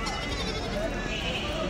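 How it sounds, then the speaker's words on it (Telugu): At a busy Tuesday goat market in Kadiri, a young goat kid gives a short bleat amid dense crowd noise and people talking nearby. "మేక పిల్ల మాది."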